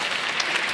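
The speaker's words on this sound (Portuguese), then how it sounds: "Podem, uma salva de palmas para eles." An audience claps steadily through a short burst, a dense, even wash of applause with no talking over it.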